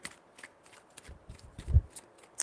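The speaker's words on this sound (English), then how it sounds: "3 shuffles." A deck of tarot cards being shuffled by hand, with soft papery riffles and taps in an uneven rhythm, close up and quiet, with no voices.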